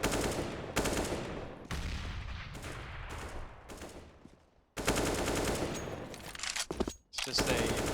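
Bursts of rifle gunfire in the video game Counter-Strike on the map Cache, rapid repeated shots in several loud clusters separated by brief lulls, with some background game noise.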